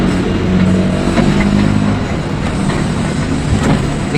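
An electric trike rolls along a subdivision road in Deca Homes, Marilao, Bulacan, giving a steady, loud rumble of tyres and road noise with a faint rattle, continuous and close throughout, with no talking.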